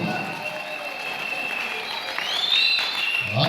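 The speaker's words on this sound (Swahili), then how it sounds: "mpigie Roho Mtakatifu makofi" A church congregation claps during a worship service. The applause is broad and steady and swells louder toward the end, with some voices underneath.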